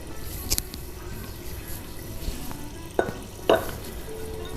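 Finely chopped curry leaves and garam masala drop into sizzling urad dal in a pan, giving a moderate steady sizzle broken by a few sharp clicks and stirring scrapes, with no talking.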